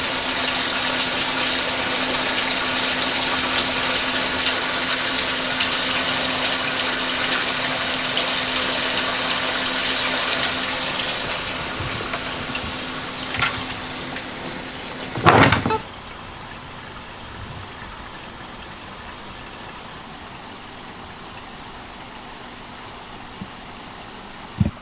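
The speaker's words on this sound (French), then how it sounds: "Donc le retour d'eau, c'est la cascade." Return water cascading into a hydroponic system reservoir on a farm, a steady rushing splash that fades partway through, broken by a sharp knock before a quieter hum takes over.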